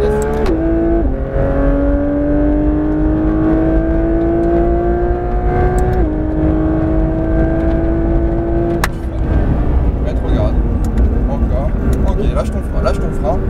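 Porsche 992 GT3 RS engine accelerating hard on the Fontenay-le-Comte circuit, a loud steady roar that climbs in pitch through the gears with sharp drops at each shift, with an instructor talking over it.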